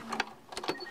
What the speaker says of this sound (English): Put them under the presser foot. Give them a good attachment.